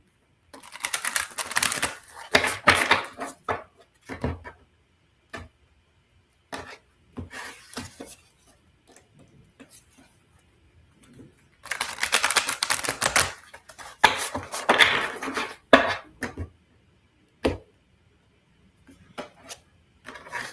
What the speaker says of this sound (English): after I give my customary 3 shuffles